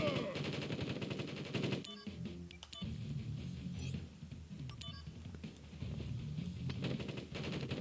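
Rapid machine-gun and rifle fire from a Crisis Core battle, crackling in dense bursts with sharp individual shots over game music and effects, continuing steadily with brief lulls.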